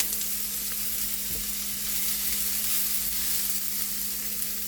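Orange peel frying in hot oil for a Gujarati orange-skin curry, giving a steady, dense sizzle that holds for the whole stretch with faint stirring scrapes underneath and no talking.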